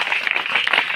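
Brief burst of dense clapping from an audience at a school gathering, steady and fairly loud throughout the second.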